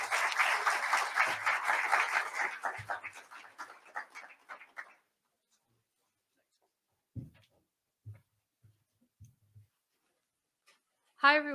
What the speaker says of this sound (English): please, large round of applause for Tanya Marwaha